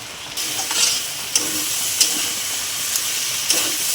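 Washed dal for Gobindobhog rice khichuri hisses in a hot pan while a spoon stirs it in a few distinct scraping strokes, close and fairly loud, with no talking.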